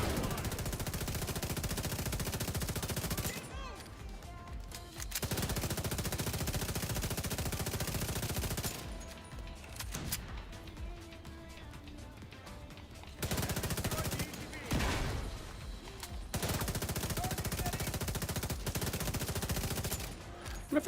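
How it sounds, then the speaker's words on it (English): Sustained automatic assault rifle fire in The Division 2, loud, close bursts that stop and restart several times with quieter gaps between. "I don't like this assault rifle at all. I can feel that kick right away."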